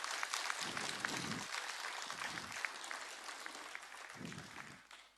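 Audience clapping to welcome the chief minister at a forest rights celebration ceremony in Madhya Pradesh, heard as steady applause from a crowd, with several low rumbling bursts underneath.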